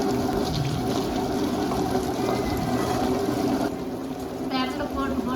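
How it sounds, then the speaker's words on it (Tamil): Water pours into a kitchen wet grinder while piranda (adamant creeper) is ground with turmeric for a pickle, a steady close splashing rush mixed with the grinder's churning noise. "போட்டு தண்ணி ஊற்றிங்க."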